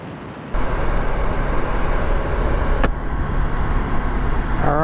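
A Royal Enfield Himalayan motorcycle cruises along Highway 83, its steady engine drone and wind roar rising sharply as speed builds and holding loud and continuous throughout.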